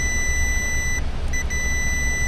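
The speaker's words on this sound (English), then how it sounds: "We're gonna put the meter on continuity here. What that means, it's gonna beep at us whenever these touch." A multimeter set to continuity, checking a fuse in the A/C system of an Infiniti QX56, gives a steady high-pitched beep that drops out briefly, then sounds again in short bursts over background hiss.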